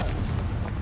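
A deep, rumbling boom from the Confringo blasting spell fills the moment in Hogwarts Legacy, loud and heavy in the low end, sustained without a clear sharp onset.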